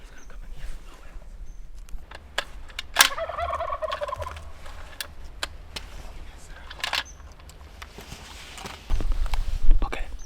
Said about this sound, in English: He's gobbling on his own.